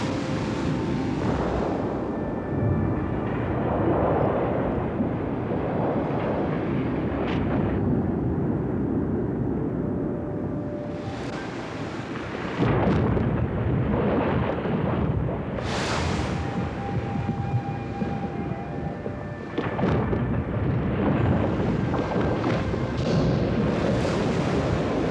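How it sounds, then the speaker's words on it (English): Calving glaciers in Alaska, known to the Tlingit as white thunder: deep, sustained rumbling roars with booming surges, loud and continuous, mixed with wind and surf-like wash. "listen to what the Tlingit Indians called white thunder, calving glaciers"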